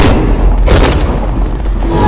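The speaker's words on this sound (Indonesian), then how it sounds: "Subas langsung menembakkan pistol ke arah bawah untuk memancing keributan." A pistol shot fired downward in a dramatic Indian film scene lands as a loud, booming blast with a dense, rumbling tail that fills the whole moment.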